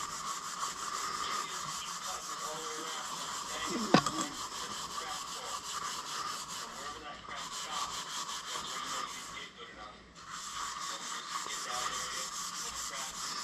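A soft Scotch-Brite pad with generic WD-40 scrubs continuously back and forth on a South Bend milling machine vise, a steady, close, rasping rub that runs through the whole stretch with only brief pauses.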